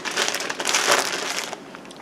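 Plastic shrink wrap bag crinkling and crumpling around a freshly harvested chicken, a close, loud, continuous rustle lasting about two seconds before easing off.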